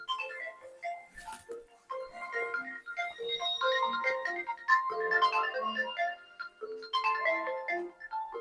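A phone ringtone plays a bright, repeating electronic melody, clear and moderately loud, with no talking.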